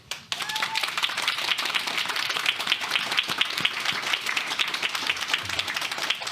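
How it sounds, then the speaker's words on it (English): After a brief quiet moment, the audience at a spoken-word storytelling event breaks into a full round of applause, a continuous mass of overlapping claps that holds steady to the end. "So this round of applause from us is for all of you."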